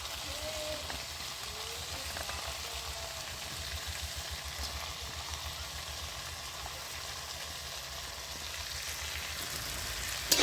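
Peas being sautéed in a pan for a vegetarian ghugni, a soft continuous crackle like light rain, with a low hum underneath and a brief clatter at the very end.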